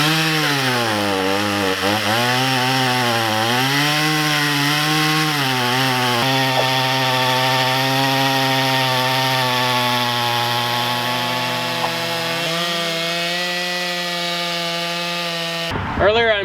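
A chainsaw cutting up green wood, its engine droning loud and close for the whole stretch, with the pitch dipping and rising as the blade bogs in and frees up, then settling into a steadier run.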